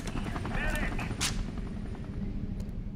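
Gunfire in F.E.A.R. 2 rumbles through a short, dense stretch of game combat, with heavy low thuds and scattered sharp reports under a voice talking.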